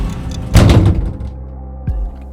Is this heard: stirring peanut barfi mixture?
no